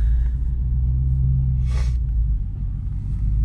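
Infiniti Q45 V8 engine fitted with Nissan Titan headers, idling with a deep, steady low rumble throughout, close and loud, with a brief burst of higher hiss partway through.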